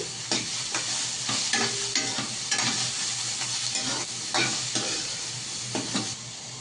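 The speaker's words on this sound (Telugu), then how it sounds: "దాంట్లోనే ఇలా సన్నగా కట్ చేసి పెట్టుకున్న వెల్లుల్లి రెబ్బలను యాడ్ చేసుకోవాలి అవి కొంచెం వేగనిచ్చి" Thinly sliced garlic cloves fry in a pan with a steady sizzle, broken by repeated scraping stirs, close and loud with no talking.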